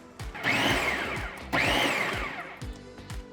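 Blender mixing salsa with bouillon, two loud whirring bursts whose pitch rises as the motor spins up, close and alone with no talk.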